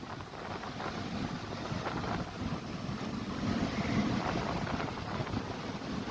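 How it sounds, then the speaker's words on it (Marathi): Strong wind blows at a beach where rough waves are breaking, making a steady broadband roar and buffeting against the microphone throughout, with no voices. "लयच वारं दिसतं इकडं."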